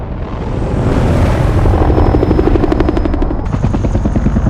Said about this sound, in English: Okay, so that's not an alien, that's a helicopter.